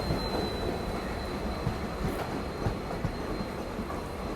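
A WDP 4D diesel locomotive of the Kalyan shed hauls the Sawantwadi–Dadar Tutari Express. The steady, loud rumble of a moving train comes with faint rhythmic wheel clatter and a thin high squeal.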